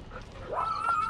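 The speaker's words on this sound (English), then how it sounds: "as you can tell, the dogs are excited" An excited dog lets out a short, rising whimper that climbs into a thin, high whine just before heading out to the beach. It is close and fairly loud, with other dogs around.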